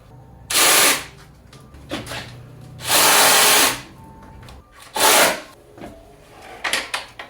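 A power tool cuts a part down to size while fitting a Bosch electric fan to a Kia Mohave KV460 gasoline twin-turbo, in three loud, close bursts of about a second each with quieter scraping between.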